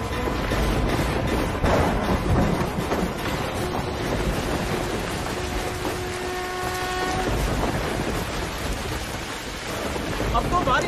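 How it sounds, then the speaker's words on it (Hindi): Rain falls steadily with rumbling thunder in a stormy outdoor scene, a dense, loud wash of noise that runs throughout. A faint tonal strain of music rises briefly in the middle. "अब तो बारिश भी शुरू हो गई"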